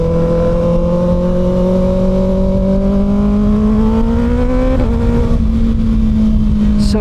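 Kawasaki Ninja ZX6R 636 middleweight sport motorcycle engine pulling hard under acceleration, a loud steady drone whose pitch climbs smoothly, dips briefly at a gear change, then holds high, with rushing wind noise throughout.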